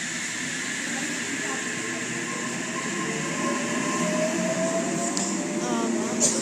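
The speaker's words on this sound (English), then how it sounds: "Thurl service now departing platform 1 here at North Wollongong." A four-car Sydney Trains Oscar set pulls away from platform 1 at North Wollongong on a Thirroul service, with a steady rumble and hiss that swells and ends in brief wheel squeals. A voice speaks faintly beneath it.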